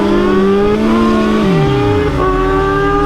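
Loud, close roar of a 2022 Suzuki Hayabusa motorcycle drag racing a Yamaha R1 at a dragstrip, engine pitch climbing through the revs, dropping sharply at a gear shift, then climbing again.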